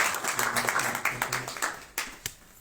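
An audience at a church gathering applauds a pastor with a short spell of scattered hand claps that thin out and fade toward the end, while some talk is audible.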